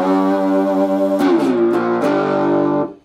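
A cigar box guitar played through a small amp with a clean tone, sustained chords with a few sharp strummed accents, loud and close, ringing out before stopping.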